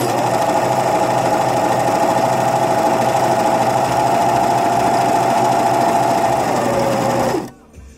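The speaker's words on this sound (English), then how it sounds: "I was talking while I was serging." Serger overlock sewing machine running at full speed in a continuous loud, buzzing mechanical drone, close up and steady for about seven seconds before winding down and stopping.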